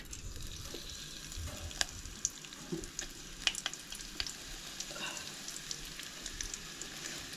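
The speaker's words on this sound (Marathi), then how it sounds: "करपिलाची फोडणी, तेच्या उपरांत करपील ऍड करा" Steady crackling sizzle of curry leaves frying in hot oil, with a few sharp pops and spits over a continuous hiss.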